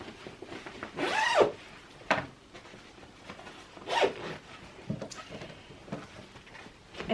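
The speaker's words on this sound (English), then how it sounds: "it has this zipper section where you can actually unzip" Several rasping zipper pulls, close up, a long one followed by shorter bursts spaced a few seconds apart, with faint handling rustles between, from the expansion zipper of a Stella & Dot Daytripper bag.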